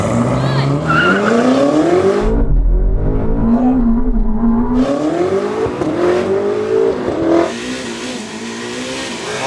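A 1,000hp BMW M5 and a Ferrari SF90 accelerate hard in a drag race, engines rising in pitch through gear changes with a brief tire squeal, loud and continuous.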